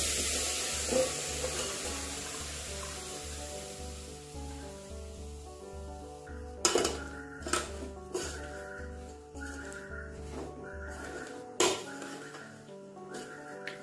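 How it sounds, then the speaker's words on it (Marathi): A spoon stirs jaggery in a pot over a lit gas stove, with a steady low hum throughout and, in the second half, several sharp metallic scrapes and clinks against the pot. "गूळ टाकल्यानंतर असं हलवून घ्यायचंय चमच्याने।"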